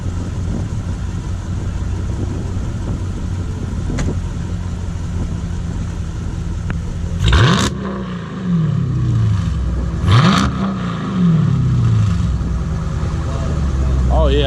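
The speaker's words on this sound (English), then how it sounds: "You mind revving it one time?" A Dodge Challenger SRT8 V8 idles with a low rumble, then revs sharply twice, each blip rising and falling back to idle, with people talking nearby.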